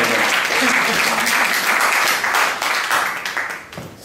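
A full audience applauds to welcome a performer onto the stage, dense sustained clapping with a murmur of voices underneath, holding strong for several seconds before thinning out toward the end.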